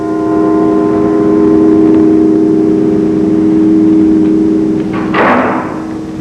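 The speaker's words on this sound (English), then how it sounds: "Yes, indeed. That is Big Ben ringing." Big Ben rings with a dull clunk because a rubber fitting on its hammer has frozen in the cold. A loud, sustained bell hum drones, then a dull strike sounds near the end.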